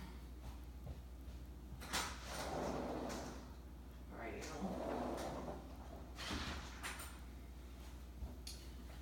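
A house door is opened and then shut to let a dog outside, with several sliding, clunking thumps and shuffling at moderate distance, scattered over a few seconds beneath low room noise.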